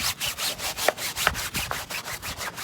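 A brush scrubs a car wheel coated with P&S Brake Buster non-acid wheel cleaner in quick, even back-and-forth strokes, about five per second, close and steady with a couple of harder knocks.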